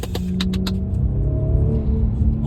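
A BMW M340i with a cold air intake rumbles from inside the cabin, with a quick series of sharp fluttering chirps from the turbo near the start, then a steady low engine drone.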